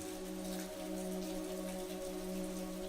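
Steady rain falls in a park, a soft, even hiss of drops heard from close by without pause, with a faint low hum running underneath.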